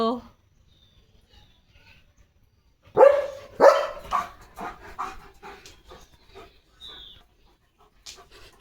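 Two sharp, loud barks from a German Shepherd close by, followed by quieter panting and soft snuffling sounds.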